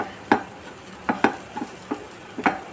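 A spoon scrapes and stirs beetroot lentil usili in a pan, with soft sizzling under a series of irregular close scraping strokes and no talking.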